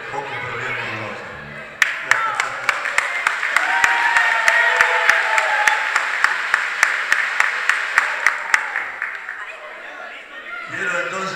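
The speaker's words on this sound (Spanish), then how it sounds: "pedir un aplauso también para ustedes" Crowd applause at a Vergara event in 2012, sustained and fairly loud for about nine seconds with sharp percussive hits mixed in, with talk before and after.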